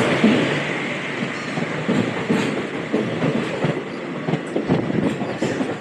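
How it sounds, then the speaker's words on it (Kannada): The Ernakulam Express from Bengaluru pulls into Bangalore Cantonment station with a close, rumbling roll of wagons and a steady run of wheel clacks and rattles, with no talk over it. "ಇವಾಗ ಧರ್ಮಪುರಿ ಕಡೆ ಹೋಗೋ ಟ್ರೈನ್ ಕೂಡ ಜಸ್ಟ್ ಬಂದಿದೆ"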